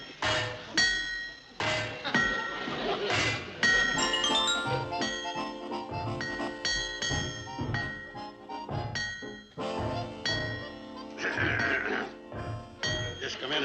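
Hammers whack an old metal locomotive, giving irregular ringing clanks and clinks of metal on metal that sound close by, with people talking over much of the banging.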